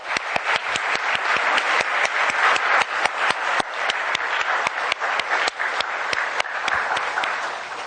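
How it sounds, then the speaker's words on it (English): An audience applauds quiz participants after their names are read out, giving sustained, dense clapping that stays loud and even for several seconds before easing slightly. "big round of applause for them"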